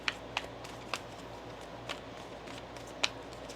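Tarot cards being shuffled during a reading, heard as a few faint, sharp riffling snaps spread over a quiet room background with no talking.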